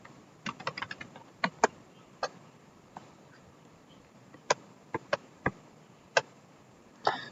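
A command typed on a computer keyboard, quiet irregular key clicks in short bursts with pauses, close and alone over faint background hiss.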